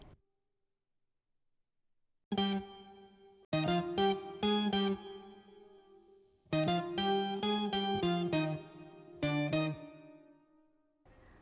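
A slow guitar riff with a distorted, effected tone, played in short bursts of chopped notes separated by brief pauses, close and clear.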